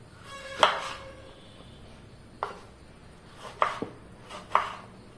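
A knife slicing a thick brinjal into quarters on a board: a handful of separate cuts, each a short crisp chop, spaced out with quiet gaps between them, close and fairly clear.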